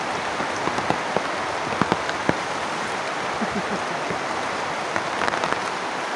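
Heavy typhoon rain pours down in a steady, loud hiss, with sharp drips and spatters of drops striking a hard surface scattered close by throughout.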